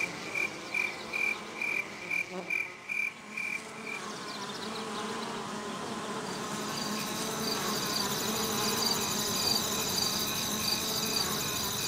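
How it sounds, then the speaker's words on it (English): Crickets chirping in short regular pulses for several seconds, then a denser, steadier layer of insect trilling takes over and continues, moderately faint and without voices. "Different crickets."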